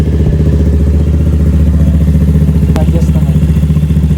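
A Rusi RFI 175 motorcycle engine upgraded to 185cc runs close and loud with a steady pulsing idle and mechanical clatter throughout.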